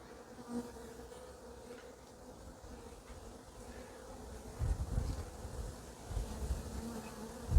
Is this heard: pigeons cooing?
no